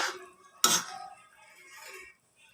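Koftas drop into boiling gravy in a pan for palak kofta curry and get stirred in. A sharp metallic clank of a utensil against the pan is followed by softer scraping and clinking, close and fairly quiet, with no talk.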